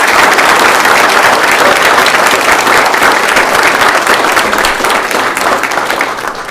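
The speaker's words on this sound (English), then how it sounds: "so a round of applause." Sustained applause from a crowd at a township committee meeting, dense steady clapping throughout, greeting six police recruit officers, tapering slightly near the end.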